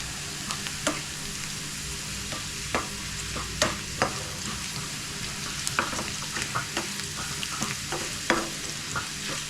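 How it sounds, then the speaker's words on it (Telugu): Onion and curry leaves sizzle in hot oil as a tempering for drumstick-leaf dal, a steady close frying crackle broken by sharp spoon clicks and scrapes against the pan. "తాలింపు పప్పులో వేసేద్దాం. ఇంకొంచెం ఆనియన్ వేసి కొంచెం వేగాక వేసేద్దాము."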